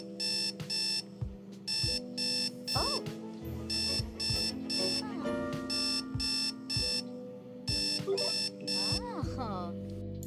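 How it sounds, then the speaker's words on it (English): A Sims 4 alarm clock beeps in repeated rapid bursts throughout, steady and fairly loud, over layered game music and chimes. "I don't know what's going on with this alarm here"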